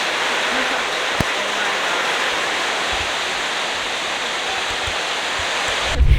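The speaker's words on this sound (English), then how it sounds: "It started pouring down rain" Heavy rain pouring down outdoors in rural East Bali, a dense, steady hiss filling the whole stretch, with a faint tap early and a brief thump at the end.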